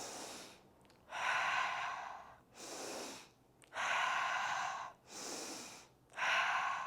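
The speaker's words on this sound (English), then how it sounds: "Inhaling and exhaling." Slow, deep breaths in and out during a Pilates exercise, about six rhythmic breath sounds in a row, close and soft with quiet gaps between them.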